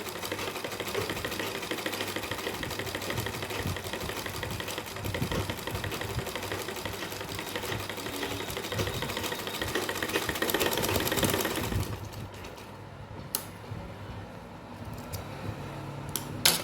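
A sewing machine runs steadily and close for about twelve seconds while stitching wide lace onto a Laddu Gopal doll's skirt, then stops, leaving quiet clicks and handling.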